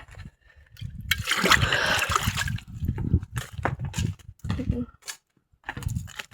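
Water poured from a mug splashes onto plants in uneven bursts, sloshing and spattering onto a surface with short pauses between pours, close by.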